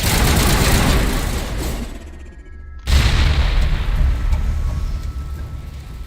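Loud booming grenade blast in Mass Effect Legendary Edition combat, with rumbling gunfire before it, a brief dip to near silence, then a sudden heavy explosion that rolls on into a long, noisy tail.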